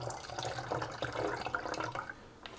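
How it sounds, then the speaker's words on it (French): Water splashing as a bowl holding the last pieces of ginger for homemade ginger beer is rinsed, a faint continuous trickle and slosh close by, with a few small drips and knocks. "je rince mon bol comme ça pour récupérer les derniers morceaux de gingembre"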